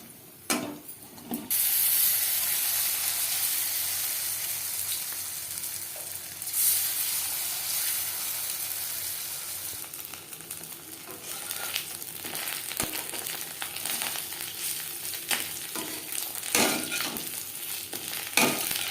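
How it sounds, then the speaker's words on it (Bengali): Bitter gourd slices fry crisp in hot oil, giving a steady close sizzle and hiss for a long stretch. Sharp clacks and scrapes recur as the pieces are turned over in the pan. "উল্টে পাল্টে ক্রিস্পি করে ভেজে নেব।"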